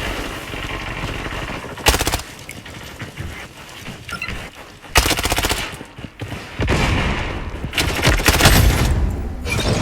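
Bursts of automatic gunfire from the online shooter Blood Strike rattle out in loud, rapid volleys, with several distinct strings of shots separated by short pauses and a long sustained barrage near the end.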